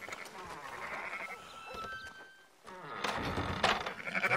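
Sheep bleating at a farm amid steady outdoor background noise, with a few short calls rising over the ambience and no clear talk.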